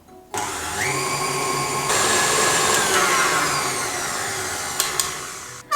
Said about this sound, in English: I've been mixing this for around 5 minutes